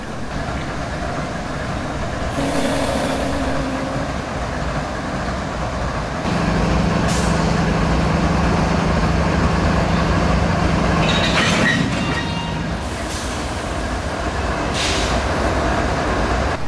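A Norfolk Southern K81 freight train knuckles onto a cut of cars, with steady rumbling from the cars, a sustained low engine drone and a few sharp metallic clanks of couplers meeting.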